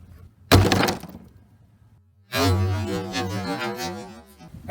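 Two sharp hits of knuckle dusters breaking an inch-thick sheet of ice laid across two pieces of wood, each a loud close crack, the second followed by lingering rattling shards.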